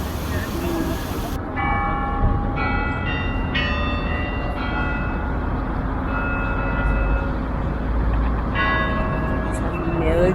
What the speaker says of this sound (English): we heard some ringing bells, or you can say Kremlin chimes, which is a historic clock on the Spasskaya Tower of Moscow Kremlin